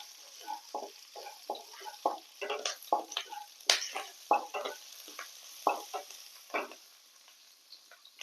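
Green chillies and dried red chillies fry in a pan, sounding like short bursts of close sizzling and spattering crackles that rise and fall irregularly, with a few sharper pops and no talking.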